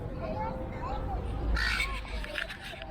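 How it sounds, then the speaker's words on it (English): A crow caws in Federation Square, Melbourne, a few harsh calls over a busy city-plaza background of crowd murmur and distant talk. "It's a bird here."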